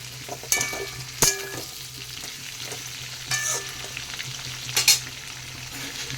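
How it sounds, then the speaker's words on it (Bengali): Potatoes fry in a pan with added tomato, green chili and onion, giving a soft, faint sizzle with a few sharp scraping stirs spaced through the stretch; no voices. "এখন দিয়ে দেবো টমেটো কাঁচা লঙ্কা আর পেঁয়াজ দিয়ে ভালো করে আরেকটু সময় ভেজে নেবো"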